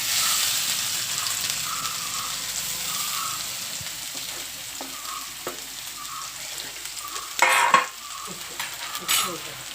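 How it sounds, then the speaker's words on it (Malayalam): Ground spice paste sizzles in a hot pan with a continuous bright hiss, joined by a few scattered taps and a louder burst of sizzling and stirring near the end; nobody speaks. "നമ്മൾ അരപ്പ് ചേർക്കാൻ പോവാണ്."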